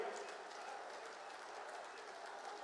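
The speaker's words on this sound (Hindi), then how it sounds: "आपके तालियां बंद नहीं होनी चाहिए" A political rally crowd in Agra, Uttar Pradesh, claps continuously, a dense, faint, distant wash of applause with no clear breaks.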